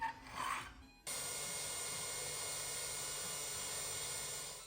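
A Milwaukee battery drill starts up after a brief scrape and then runs steadily at high speed, a continuous whine that holds level before easing slightly at the end, close and fairly quiet.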